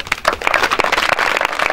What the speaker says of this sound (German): Dann bitte ich um einen riesen Applaus für Paula Johanna Arendt.